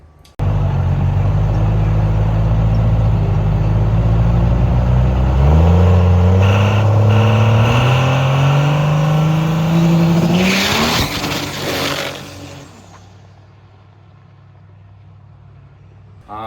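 A drag racing truck engine roars loud and close at full throttle, its pitch climbing, dropping at the 1-2 shift and climbing again with a failing second gear band before the noise cuts off and fades to quiet.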